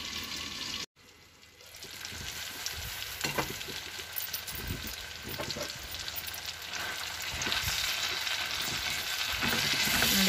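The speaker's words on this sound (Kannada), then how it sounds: "ಒಂದು ಚೂರು ಊರಿ ಸಣ್ಣ ಮಾಡಿಕೊಂಡು ಒಂದು ನಿಮಿಷ ಬೇಯಿಸ್ಕೊಳ್ಳೋಣ" Chopped tomatoes with salt cook in a pan for capsicum gojju, a steady close sizzle and hiss running the whole time after a brief cut near the start, slowly swelling louder and heard alone.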